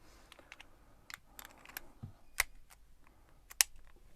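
Rounds pressed one by one into the magazine of a Girsan MC 1911 SC 9mm pistol, giving a run of small sharp metallic clicks at close range in a quiet room.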